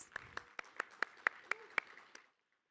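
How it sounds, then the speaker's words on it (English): Sparse audience at a tech talk claps to welcome a speaker to the stage; a few distinct, fairly faint claps in a steady rhythm that stop after about two seconds. "Everyone give her a big round of applause."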